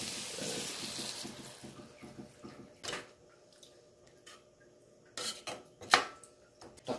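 Water is poured into a cooking pot for papaitan, a soft splashing trickle at first, followed by a few sharp metallic clinks and knocks of the pot, close and fairly quiet.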